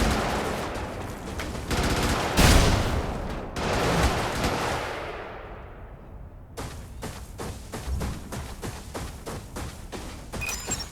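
Heavy gunfire from an armored mech in the isometric game Brigador, loud bursts of rapid shots, a brief pause, then a steady string of sharp individual reports firing in reverse.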